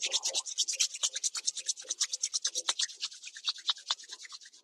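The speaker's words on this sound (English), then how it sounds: "Bring the palms of your hands together, rub them." Palms of the hands rubbing briskly together during a seated yoga session, a fast rhythmic swishing of skin on skin, close and soft, about a dozen strokes per few seconds, no voice.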